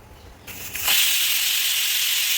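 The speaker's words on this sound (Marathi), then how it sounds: "कुकरचं झाकण लावून घ्यायचं आहे आणि मोठ्या आचेवरती आपण कुकरच्या 4 शिट्ट्या काढून घेणार आहोत" A pressure cooker on high flame, cooking coconut, lets out steam. After a short quiet lead-in, a loud, steady hiss starts abruptly and carries on alone, close and continuous.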